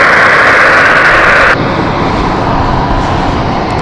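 An Airbus A220 jet backtracking down the runway at London City Airport, a loud, steady engine roar that suddenly drops to a lower, duller rumble partway through.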